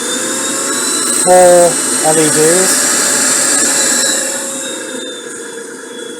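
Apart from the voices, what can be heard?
repaired cordless vacuum cleaner running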